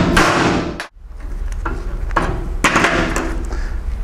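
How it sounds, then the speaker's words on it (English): A hammer strikes a cable crimper tool clamped onto a cable lug for a welding ground clamp, one heavy metallic blow followed by a run of sharper ringing taps, close and loud with no talking. "I'm going to insert the cable lug into this cable crimper tool, and I'm going to beat it with a hammer here."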